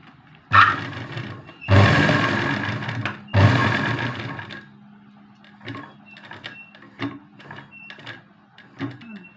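A sewing machine, threaded with black bobbin thread, stitches a fall along the black border of a sari. It runs in three loud, close bursts, then gives several short, quieter intermittent stitch runs.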